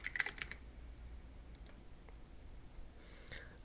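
Brief typing on a computer keyboard, a few quick clicks at the start and a short burst near the end, close and fairly quiet over light background noise.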